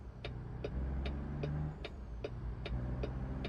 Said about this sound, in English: the base game didn't really do justice for sounds of the trucks